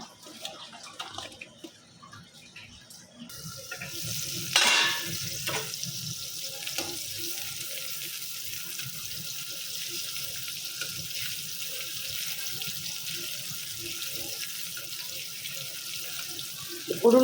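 Hilsa fish being rinsed under a running kitchen tap, a steady close stream of water splashing into a sink with brief louder splashes and handling knocks, no talk.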